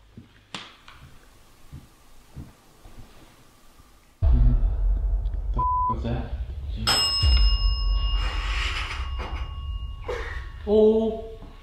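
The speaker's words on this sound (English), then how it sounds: "That little girl that's in there with Ryan, can you ring the bell if you can hear me?" Inside a reputedly haunted house at night, a small bell rings with a clear sustained tone amid rumbling handling noise and scattered knocks, followed by a brighter, ringing bell-like chime a moment later.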